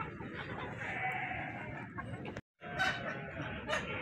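Several golden Misri hens cluck and murmur nearby on a farm in a continuous chatter, broken by a brief moment of silence partway through.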